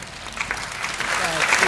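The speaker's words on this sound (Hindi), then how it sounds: "ताली बजाओ, सांस लेना है।" Audience applause at a Hindi comedy poetry recital, dense clapping building slightly in volume over a short stretch, with some voice-like sound mixed into the crowd noise.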